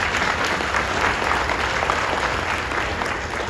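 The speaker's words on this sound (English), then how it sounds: "Can we give them a round of applause," High school graduation audience in Surry, Virginia applauding the teachers and staff, a dense, steady burst of clapping throughout.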